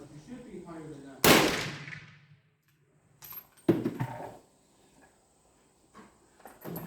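A Swedish Remington rolling block rifle fires a single sharp report at an outdoor range, with a second, weaker bang a few seconds later and faint background noise between them.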